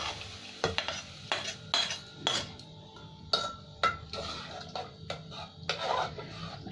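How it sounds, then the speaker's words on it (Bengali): Spice mix tipped into a pressure cooker while cooking rajma, with a run of sharp metallic clinks and scrapes of spoon against pot, irregular and close, with no voices. "এই মশলাটা পুরোটা দিয়ে দিলাম কুকারের মধ্যে"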